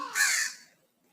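A single crow caws once, a short, fairly faint, harsh call that fades out and leaves quiet behind it.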